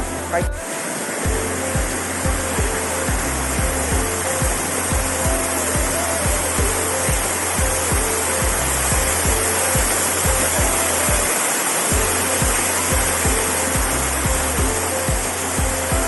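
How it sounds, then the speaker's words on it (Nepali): A river near Pokhara rushes in a steady broadband roar, loud and unbroken, with a faint low rhythmic thudding running underneath throughout. "यहाँ चाहिँ खोला छ न"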